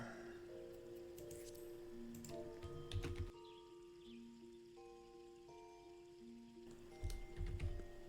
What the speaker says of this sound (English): Typing around a mic sucks.